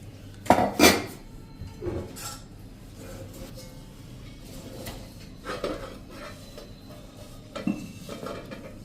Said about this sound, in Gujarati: પ્લેટમાં આપણે આ બેટર નાખીને ઢોકળા તૈયાર કરવાના છે એને પણ આપણે આ રીતે 1 ચમચી જેવું નાખીને ગ્રીસ કરી લેશું